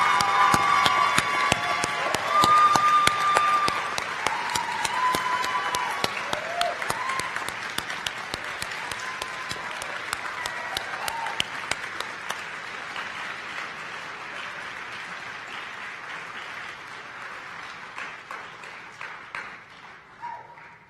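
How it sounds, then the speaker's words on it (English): Audience applause at a university honors convocation, a loud burst of clapping from a large crowd that gradually thins and fades away over about twenty seconds, with faint voices mixed in. "Let's have a final round of applause for the Saxton Fellows."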